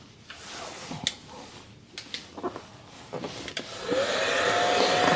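A heat gun blows hot air while warming wrap film on a Tesla Model Y rear-wheel-drive, with a steady rushing roar that swells in the last seconds after some scattered handling clicks and taps.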